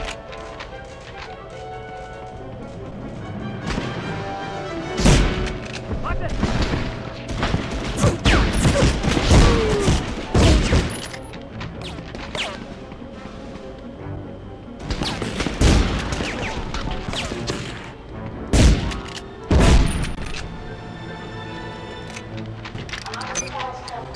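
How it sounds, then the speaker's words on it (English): Shotgun blasts and explosions in Medal of Honor, several sharp loud bangs and booming bursts scattered over steady background game noise, with a voice talking between them. "Shotgun again."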